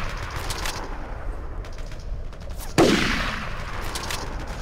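A single sharp video game gunshot in Battlefield 2 bursts out partway through, with a decaying echo tail over a steady background hum.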